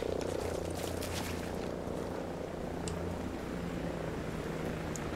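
An enemy helicopter in the video game Ghost Recon Breakpoint hums with a low, steady rotor drone that holds throughout, moderately loud with no talk over it.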